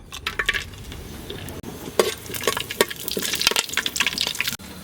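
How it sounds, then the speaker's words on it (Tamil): Spices dropped into hot sesame oil in a pan for tempering while cooking beef curry, giving crackling, spattering pops and scattered clinks of utensils close by, with no voices. "சட்டி நல்லா சூடாயிருச்சு எண்ணெய் ஊற்றிக்கலாம் தாளிப்பு சேர்த்துக்கிடுவோம்"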